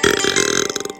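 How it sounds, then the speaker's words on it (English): A man burps loudly and continuously, a long drawn-out belch with rough, rasping pulses that trails off near the end before a short final burst. "He kept on burping in our faces."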